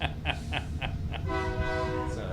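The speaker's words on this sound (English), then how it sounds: "Whoa, train." A train rolls past nearby, rhythmic clatter bursts giving way to a sustained tonal horn or squealing wheels, loud and continuous with a deep rumble underneath.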